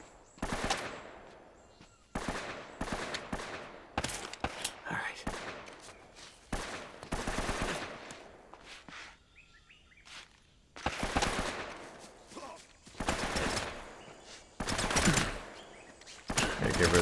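An AK rifle fires in sharp bursts during a firefight in the game Uncharted: Drake's Fortune. The loud, close volleys are separated by brief quieter gaps.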